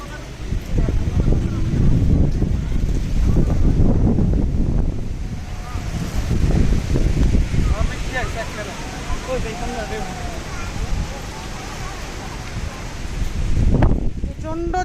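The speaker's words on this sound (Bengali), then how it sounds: "ঝড় ঝড় মানে হাওয়ার ঝড় হুম প্রচন্ড" A strong windstorm gusts in roaring, buffeting waves over the microphone during a storm at Unakoti, with rustling foliage and people talking through it.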